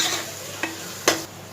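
Spices are stirred in a hot pan while rice and toor dal are prepared, a soft frying hiss under two distinct scraping strokes of the spoon against the pan, close and brief, with no voices.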